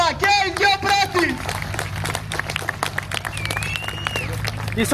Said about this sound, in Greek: Θερμέ χειροκρότημα και οι δυο πρώτοι!